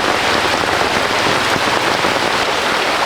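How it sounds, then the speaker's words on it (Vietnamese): Heavy rain pours steadily during a flood, a dense and constant loud hiss of drops close by with no voices over it. "Trời mưa to quá, nước lũ về rồi."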